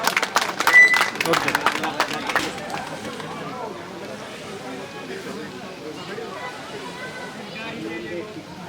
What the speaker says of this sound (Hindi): राम कुमार साहब जी, सबके लिए तालियां साथ में साथ।